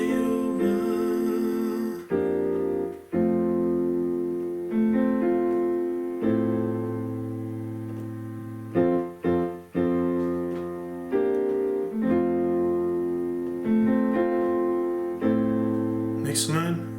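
Piano chords for the verse of a Samoan hymn, played alone at a slow, deliberate pace, each block chord struck and left to ring before the next.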